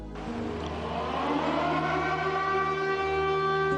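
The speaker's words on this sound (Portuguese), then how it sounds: "Todas as sirenes na cidade soavam uma última advertência de urgência" A long, droning civil defense warning siren in a town holds a steady mournful tone, loud and sustained, with no voices.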